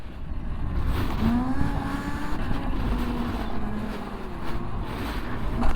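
Yozma IN10 Pro dirt bike engine revving, a continuous rasping motor note that rises and falls in pitch, heard close over wind noise with no speech.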